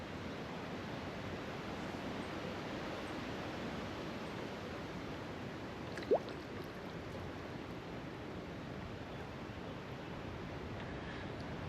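A cool breeze blows through tree branches along the Upper Mad River, making a soft, even, continuous rushing hiss that stays faint and steady throughout, with one brief faint chirp partway through.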